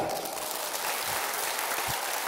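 Steady applause from a concert crowd, a dense wash of clapping that holds at an even level throughout with no voices standing out.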